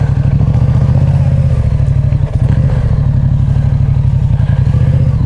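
A motorcycle engine idles loudly up close in a forest, a steady rapid putter that continues without pause.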